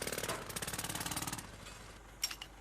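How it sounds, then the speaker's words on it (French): A jackhammer pounding on a construction site in a rapid, steady rattle of close, loud blows for about a second and a half, then stopping, followed by a couple of faint knocks. "Le travail au marteau-piqueur génère un niveau de bruit important."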